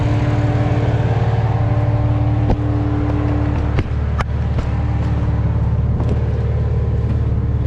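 A BMW 335i fitted with a big turbo and running on E85 drives off, its engine a loud, steady close drone from inside with a few sharp clicks and knocks scattered through and no talking.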